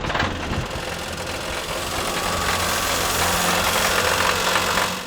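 A rough-running engine in an old, rebuilt car idles loudly and continuously up close, with a steady knocking, vibrating throb beneath broadband mechanical noise throughout.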